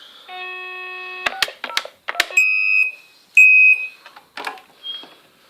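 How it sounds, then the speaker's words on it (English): A SOHO-308C PBX desk phone extension rings loudly in clear electronic bursts, with beeps and dialing-like tones at first, then two long sustained ringer tones separated by a short gap. "That's an obnoxiously loud ringer"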